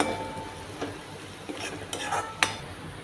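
Spice mix being stirred into okra masala in a pan, a few scraping spoon strokes over a soft, steady background sizzle, fairly quiet and with no talking.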